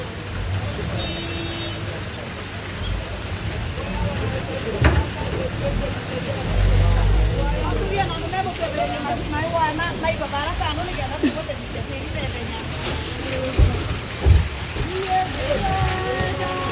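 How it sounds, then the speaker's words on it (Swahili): Steady rain hisses and patters across the whole stretch while people talk nearby, with a few louder thumps and a low rumble beneath. "najua mvua imeanza"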